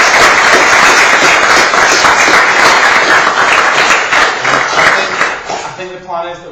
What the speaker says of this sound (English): So can we have a round of applause for the speakers?